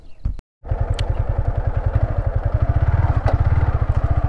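A Yamaha R15 V3 motorcycle engine revs up after a brief cut, its exhaust giving a loud, rapid, even pulsing beat close to the microphone.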